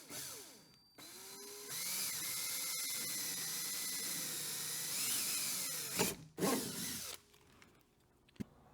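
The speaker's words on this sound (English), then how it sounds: "I'm using a 5/16 drill bit here." A power drill fitted with a 5/16 bit bores through a kayak hull, giving a steady, loud whine that runs for several seconds before cutting out, followed by a few short bursts and clicks.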